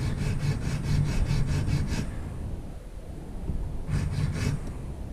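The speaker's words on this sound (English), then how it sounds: "So I like to just use the nail file." A nail file sands a plastic piece of a MeiLong 7x7 v2 Rubik's cube in close, steady back-and-forth rasping strokes that pause in the middle, then resume briefly.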